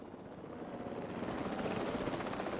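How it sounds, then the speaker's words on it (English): Helicopter in the video game Jurassic World Evolution 2: a steady, fast rotor thrum and engine whine grows gradually louder as the aircraft approaches, with no talk over it. "We have a helicopter standing by, and they'll attempt to tranquilize the animal from the air."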